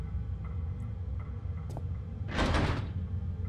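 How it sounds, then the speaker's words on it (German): A door rattling in the horror video game Penumbra: a single short, muffled rattle of a stuck door stands out faintly against a low ambient hum. "Eine Tür, die nie geht."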